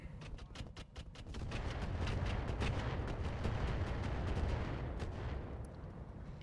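Mech weapons fire in the RogueTech BattleTech video game, a rapid burst of sharp shots followed by a dense, rumbling barrage of explosions that swells and holds loud before tapering.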